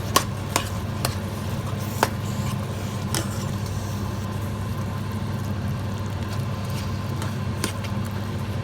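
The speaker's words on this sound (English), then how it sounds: "Now we will stir it up" A spoon stirs boiled vegetables into pav bhaji masala in a pan, giving steady scraping with light clinks at irregular intervals over a constant low hiss.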